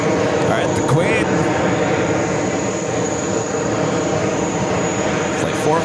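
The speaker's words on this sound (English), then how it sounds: "Flight 401 heading back to Frankfurt, 747-400 rolling down for left." A Boeing 747-400 jet airliner rolls down the runway, a broad continuous engine roar heard from a distance and holding steady throughout.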